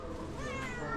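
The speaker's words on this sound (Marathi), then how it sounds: "इकडे मांजर आहे मस्त अशी मोठीशी" A large cat meows continuously at close range, a drawn-out, wavering cry filling the whole second with no talk over it.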